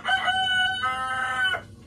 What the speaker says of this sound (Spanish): Disculpen el gallo.